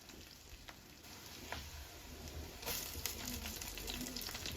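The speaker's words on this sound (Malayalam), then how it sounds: "കൂടെ തന്നെ ഒരു പിടി കറിവേപ്പിലയും കൂടി ഇപ്പം തന്നെ നമ്മളിതിലേക്ക് ഇട്ട് കൊടുക്കുന്നുണ്ട്." Green chillies and a handful of curry leaves sizzle faintly in hot oil, a soft continuous hiss with scattered pops and a few stirring scrapes, heard from a short distance with no talking.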